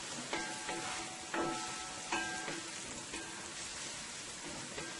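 Eggplant stew being tossed and fried in a pot, a steady loud sizzle with periodic stirring scrapes and clatters, no talking.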